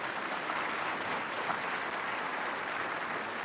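Soft, even applause from a gubernatorial debate audience, a steady distant patter of many hands clapping without a break for a few seconds.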